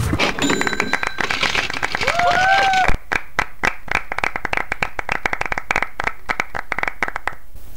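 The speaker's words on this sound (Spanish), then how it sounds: "aplauden" Video game applause on winning: a burst of crowd clapping with bright chiming tones at first, then steady rapid hand claps carrying on alone to the end.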